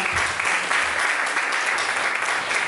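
A church congregation breaks into loud, sustained applause, dense clapping that fills the room throughout.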